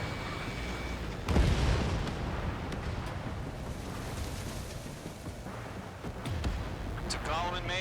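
Missile launch and explosion in the Ace Combat 7: Skies Unknown jet combat game, a sudden loud boom followed by rumbling blast noise, with radio chatter voices talking over the engine drone.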